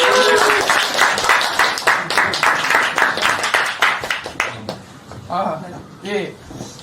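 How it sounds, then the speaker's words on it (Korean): An audience at a Korean talk event claps in a burst of applause that thins out and fades, followed by a speaker beginning to talk. "박수 한번 주세요."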